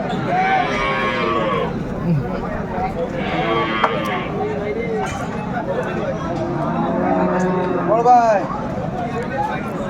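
Cows and calves low with drawn-out moos amid the busy hubbub of a crowded Bangladeshi cattle market, several calls rising above steady background chatter while people talk nearby.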